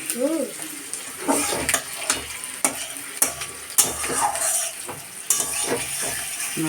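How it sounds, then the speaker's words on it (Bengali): Onions fry in a pan for a curry, with a steady sizzle punctuated by rhythmic spoon scrapes and clanks against the metal. A voice is briefly audible at the start. "এটা পেঁয়াজ ভাজা পেঁয়াজ ভাজাটা করছি কারির জন্য"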